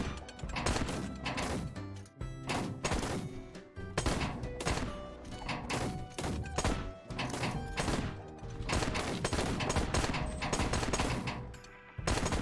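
Rapid, continuous gunfire and bottle-smashing in Bartlow's Dread Machine, a loud dense barrage of shots and crashes with only brief pauses.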